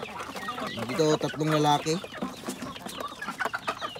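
Eight-week-old range chickens cluck in a burst of harmonic calls near the middle, close and fairly loud, with someone talking over and around them.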